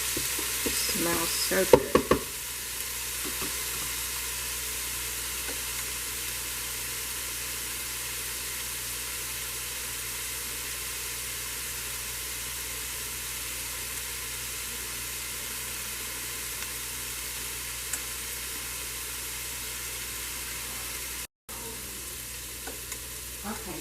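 Salmon cakes fry in olive oil inside a Ninja Speedi with a steady, even sizzle that hisses on without a break for over twenty seconds, and a voice speaks briefly near the start.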